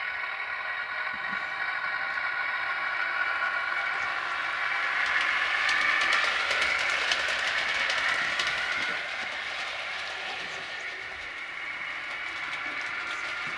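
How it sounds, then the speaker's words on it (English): A model railway DMU runs on layout track with a steady mechanical whirring and rail rumble, swelling as it passes nearby and then easing off as it moves away. "As we've got the DMU out, we'll give it a run round."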